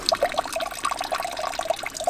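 Water being siphoned from one bucket into another at a campsite, a steady trickling and splashing flow with small bubbly drips, close and continuous.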